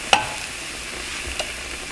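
Shepherd's pie sauce of beef broth thickened with flour simmering in a pan, a soft, low bubbling hiss with two faint clicks.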